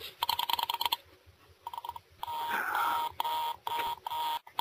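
A repeating telephone busy signal pulses in short on-off bursts, then gives way to a steadier buzzing signal, fairly close and moderately loud with no talking.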